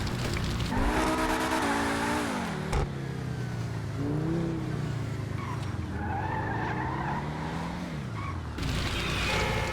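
A burning car drives in the video game GTA, its engine droning and shifting pitch while tires skid and squeal almost continuously, loud and close, with a brief break and a harsher burst near the end.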